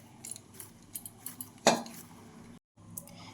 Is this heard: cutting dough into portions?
yes